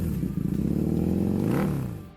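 A BMW R9T Pure motorcycle with its classic boxer engine rumbles nearby, a throbbing low-pitched exhaust note that swells briefly as the revs rise, then fades away over about two seconds.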